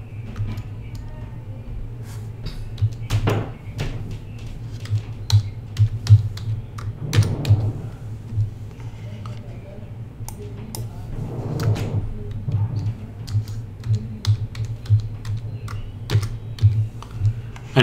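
Clicky typing on a computer keyboard while filling in account activation details for a Cisco Packet Tracer installation, bursts of keystrokes at close range over a steady low hum, with occasional pauses.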